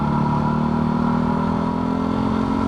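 A Yamaha WR450F dirt bike engine holds steady at roughly a quarter to a third throttle, a loud, close, continuous buzzing drone with no voices over it.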